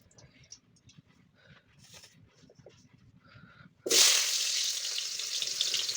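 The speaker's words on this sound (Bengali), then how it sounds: "আর আলুগুলো ভেজে নেবো" Soft kitchen clatter gives way to a sudden loud burst of sizzling as potatoes hit hot oil in a wok, then a strong, steady fry continues.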